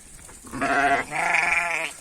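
A sheep gives two close bleats, a short wavering cry followed by a longer, quavering one, fairly near and clear against quiet surroundings.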